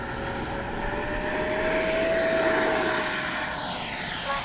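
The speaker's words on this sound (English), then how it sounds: "it's a great flying plane. Great flying jet." An FMS 80mm F-86 RC jet flies past, its edged-fan whine steady with a high tone, the roar swelling slightly as it passes nearby, with no talk.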